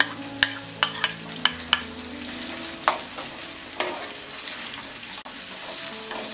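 Green peas and capsicum fry on a tawa for Mumbai-style pulao, with a steady close sizzle and a series of sharp scraping taps as a spatula stirs the vegetables.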